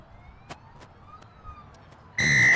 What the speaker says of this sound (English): And the siren to start the game sounds, and Westville kick off.